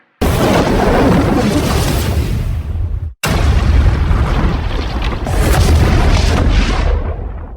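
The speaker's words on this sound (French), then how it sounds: "Une immense explosion retentira et Muzan sera calciné par les flammes" A massive, roaring blast fills the air, broad and rumbling, cut by a brief silence before a second long, heavy boom that slowly fades out.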